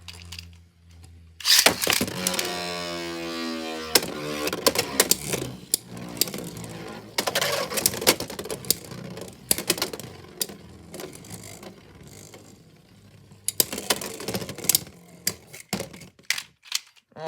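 Plastic Beyblade tops, including a Wizardrod, launched with a ripcord into a stadium: a sharp ratcheting whir at the start, then continuous spinning and repeated clacking collisions, loud and close.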